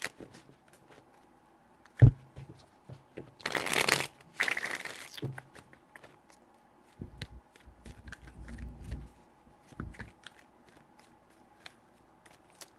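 Tarot cards are shuffled in a few short bursts of riffling and flicking, close up and fairly quiet, separated by small taps and handling noises.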